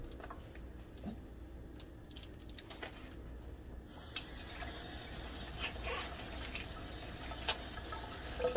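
Tap water runs steadily into a sink as pork chops are rinsed, starting after a few seconds of quiet kitchen clatter and continuing as a close, even hiss.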